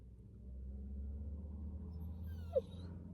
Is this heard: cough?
no